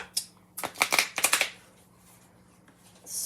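Brady Tarot third edition cards with a matte satin finish being shuffled by hand, a quick close burst of riffling and flicking card sounds lasting about a second, followed by quiet and a faint rustle at the end.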